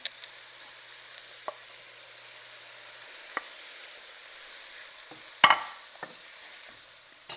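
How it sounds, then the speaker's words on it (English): Shredded carrots go into a pan of frying onions while cooking sarma, giving a soft, steady sizzle with a few light clicks and a sharper clatter partway through. "I'm going to add the carrots into the pan now"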